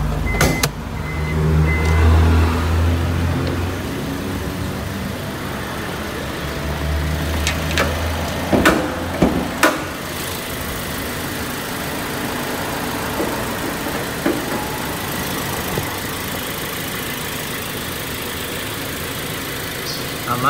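Toyota Sienta V Matic 2016 engine idling steadily and smoothly, a continuous low hum at moderate level with a few brief clicks and knocks around it and no talk.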